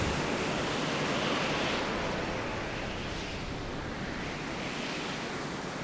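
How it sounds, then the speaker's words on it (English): A strong gust of wind blows in the video game Final Fantasy XVI as a continuous broad whooshing rush, steady and fairly loud, with no voices over it. "where's this gust of wind?"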